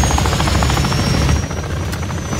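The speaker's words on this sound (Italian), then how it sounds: "Perché non esplode l'elicottero, capito?" Helicopter rotor chopping steadily in Call of Duty Warzone 2.0 DMZ gameplay, loud and continuous throughout with a sustained high engine whine, no talk over it.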